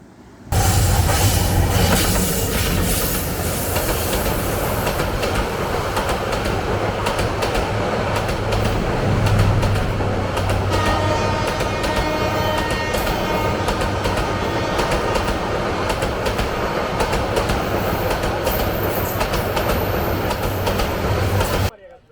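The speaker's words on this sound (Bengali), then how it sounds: "প্রতিদিন এই স্টেশন থেকে আন্তনগর মেইল এবং এক্সপ্রেস ট্রেন ছেড়ে যায়" Trains at Feni railway station, a red-brick station serving intercity mail and express services: a loud, continuous rumble of rolling wagons with rhythmic wheel clatter and faint squeals, close by, sustained throughout.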